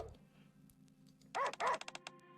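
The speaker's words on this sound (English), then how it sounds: "Oh, they got sound effects for all the dogs" Several dogs bark in quick succession in the video game Nikke, two long loud barks followed by a string of shorter yips, close and clear over a low background hum.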